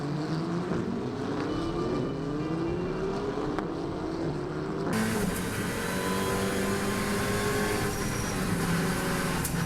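A race car engine at the start of a race, the pitch climbing through several gears as the car pulls away, with a louder, fuller engine roar taking over midway and continuing steadily.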